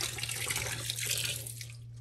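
Water poured into a load of laundry, a steady close rushing and splashing with a low constant hum beneath, continuous and fairly soft throughout.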